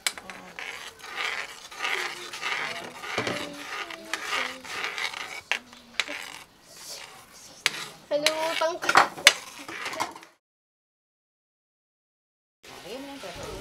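Sweet and sour tilapia being stirred in a pan, with busy clattering of utensils on cookware and a light sizzle over voices talking nearby, ending in a few seconds of silence before a short burst of sound returns.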